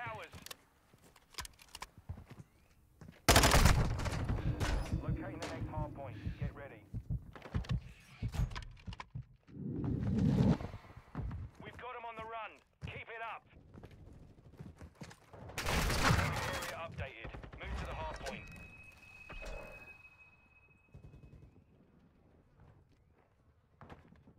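Gunfire in a Call of Duty: Modern Warfare II ranked match, with loud bursts of shots around 3-4 s and 16 s among quieter game sounds, keyboard-like clicks and a talking voice.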